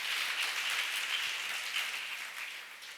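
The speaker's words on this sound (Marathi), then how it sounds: "टाळ्या वाजून देवाला धन्यवाद देऊया." A church congregation claps together in thanks to God during a sermon, a dense, steady wash of applause that holds for about three seconds and fades slightly at the end, with no talk over it.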